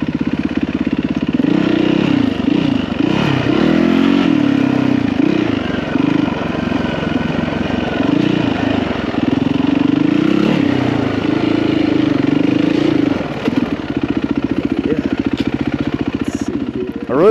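A Yamaha WR450 dirt bike engine runs continuously and loudly close by, pulsing and rising and falling as it is ridden with feathered clutch over rocky ledges in McCain Valley, with no talking.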